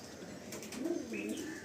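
A Madrasi baby pigeon kept for tournament breeding gives a soft, low cooing call that rises briefly near the middle, faint against quiet room noise.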